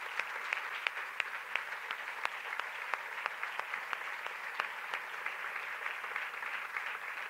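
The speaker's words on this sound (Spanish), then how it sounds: "yo pido un fuerte aplauso para ellas porque la verdad es que se lo merecen" At a women's basketball league season launch, an audience applauds the players with steady, fairly even clapping and distinct sharp claps popping out, moderately distant and quieter.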